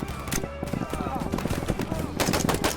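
Rapid automatic gunfire in a Vietnam War combat video game, packed bursts of sharp shots fired back to back at close range, with a voice faintly beneath.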